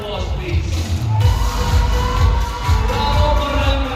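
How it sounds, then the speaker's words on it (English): A large audience at the Miss World Philippines 2024 pageant claps and cheers for the 33 candidates, a loud sustained crowd roar with whoops and background music. "They all deserve a round of applause"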